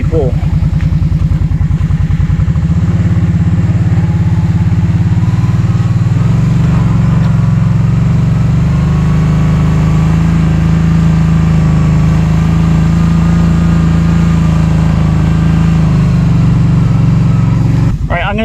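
A Simplicity Broadmoor riding mower, close to 1,000 pounds, strains through mud while towing, its deck dragging in grass. The engine drones loudly and continuously, its pitch sagging and recovering under load.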